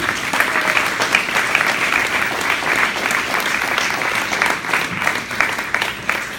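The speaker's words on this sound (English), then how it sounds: "can I please have a round of applause" A large crowd applauding steadily, a dense wash of clapping that stays loud and even throughout.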